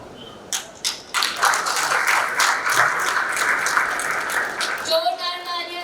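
Applause from the audience at a Champ of Change celebrity event rises into a dense, sustained clapping that runs for several seconds before cutting off abruptly, then a voice starts to speak.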